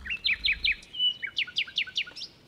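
A magical bird in a Hindi children's cartoon chirps clearly in a quick series of bright, rising tweets, first three, then a short whistle, then a longer run of five or six, alone without talk.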